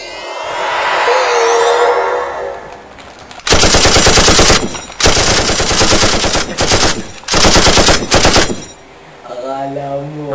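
Loud bursts of rapid automatic gunfire, several long volleys separated by short gaps, after a stretch of quieter sound at the start.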